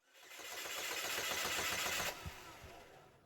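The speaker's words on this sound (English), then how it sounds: "you're going to need to have someone crank over the vehicle" A 2006 Chevy Cobalt with a 2.2L engine and a misfire fault cranks over for about two seconds in a steady whirring rhythm, then cuts off with a couple of soft thumps, close and moderately loud, with no talking.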